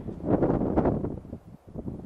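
Wind gusts buffet the microphone during a bicycle touring trip in Nevada, a close rumbling rush that swells and eases over a couple of seconds with no talk.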